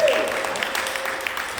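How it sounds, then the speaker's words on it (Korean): Congregation applause during a Korean church Sunday service, a brief, steady patter of clapping from a roomful of worshippers, moderately loud and fairly even, with a faint voice trailing at the start. "박수로 격려합니다."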